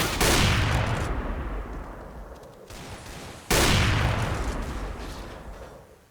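Two loud, reverberant gunfire bursts from a Counter-Strike match on de_mirage, each a sharp blast with a long decaying tail, the second arriving about three and a half seconds after the first.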